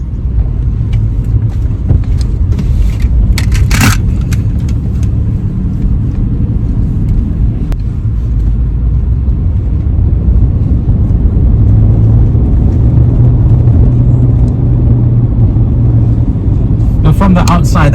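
A Toyota FJ Cruiser with a 5-speed automatic on a test drive in the Borneo Highlands, heard as a steady low engine and road rumble from inside the cabin, loud and continuous with a few brief knocks and rattles.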